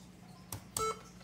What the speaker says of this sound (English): I accidentally hit the Windows key instead of Z, and it beeped at me.